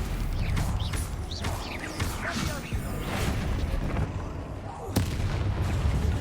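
Confringo blasting spells in the Hogwarts Legacy video game, a rolling series of booming impacts and crashes during a magical duel, with sharp bursts near two seconds and five seconds and voices shouting over the combat.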